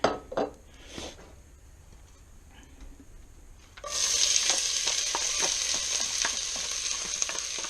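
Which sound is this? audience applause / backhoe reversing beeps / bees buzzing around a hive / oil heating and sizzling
oil heating and sizzling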